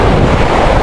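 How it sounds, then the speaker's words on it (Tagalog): Strong ocean waves and gusting wind over a shallow, murky sea while fishing from shore: a dense, steady roar of surf and wind buffeting the microphone, close and loud, with no voices. "yung dagat, at saka ang lakas pa ng alon"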